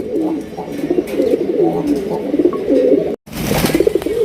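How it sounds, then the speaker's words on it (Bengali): Bombay pigeons coo steadily in low, throaty rolling phrases, close by, with a brief dropout near the end before the cooing resumes. "বোম্বাই কবুতরটা কিন্তু সেই লেভেলে ডাকা ডাকতেছে"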